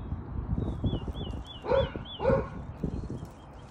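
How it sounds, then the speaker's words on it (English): A dog barks twice in quick succession at close range, with faint high chirping in the quiet background. "Bella, who are you barking?"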